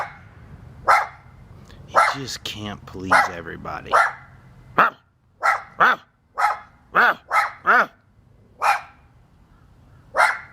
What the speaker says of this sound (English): Here's a dog that's angry that I'm at my own house.